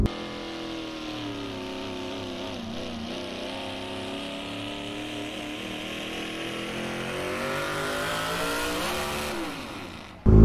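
Pickup truck at a truck pull, engine roaring loudly and steadily with the throttle feathered, pitch wavering and rising as the truck bounces under load, ending in a sudden burst.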